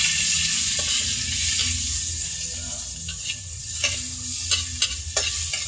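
Onions stir-fry in a hot pan, giving a loud, continuous sizzle close by, with scraping utensil strokes that grow sharper and more frequent toward the end, and no voices.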